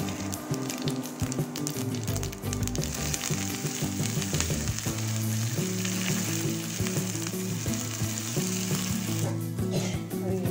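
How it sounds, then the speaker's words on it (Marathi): A tempering of spices (phodni) crackles loudly as it hits hot oil for homemade curd, a dense, continuous close-up sizzle with faint stirring and no talking. "त्याला फोडणी देते"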